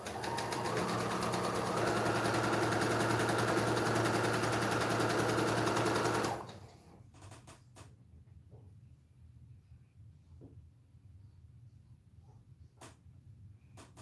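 A Brother sewing machine running steadily for about six seconds with a loud continuous motor whir, then stopping abruptly, leaving faint room noise and a few light handling clicks.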